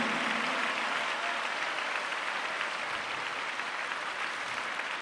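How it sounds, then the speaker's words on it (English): A large assembly at a 90th birthday celebration applauds students of Mudanahalli from Swami's Educational Campus, a thick, steady wash of clapping that stays even and sustained from start to finish. "Can we have another huge round of applause for the students of Mudanahalli?"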